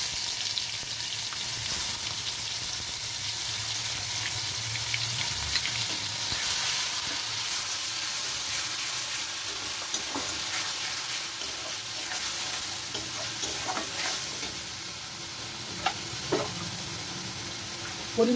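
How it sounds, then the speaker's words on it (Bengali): Onion, garlic and ginger paste sizzles in hot spiced oil, a steady close frying hiss with occasional stirring clinks and scrapes of a utensil against the pan. "আমি এবার পেঁয়াজ বাটাটা দিয়ে দেবো, পেঁয়াজ রসুন আদা বাটা দিয়ে দেবো।"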